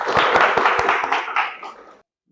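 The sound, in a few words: class applause for a student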